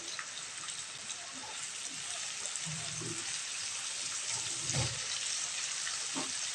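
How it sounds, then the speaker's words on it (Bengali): Onions with salt fry in a pan for a meat curry: a faint, steady sizzle with occasional stirring scrapes and light clicks, and no one talking. "পেঁয়াজটা ভাজা ভাজা হতে হতে লবণটা আমি দিয়ে দিচ্ছি।"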